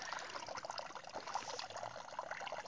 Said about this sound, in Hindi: देखिए कैसे यहाँ इस नल से पानी अपने आप निकल रहा है